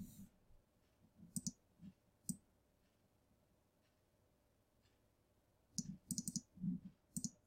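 Sharp mouse clicks during photo editing on a computer, a couple of isolated clicks early on, then a quick cluster of several clicks near the end, close and crisp against a quiet room.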